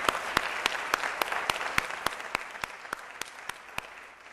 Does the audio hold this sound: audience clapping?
yes